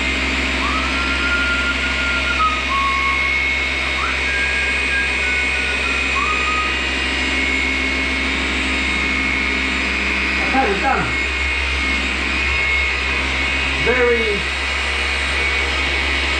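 A Force Rotation dual action polisher runs with a constant electric motor drone and whir, steady and close, while a voice occasionally sounds over it.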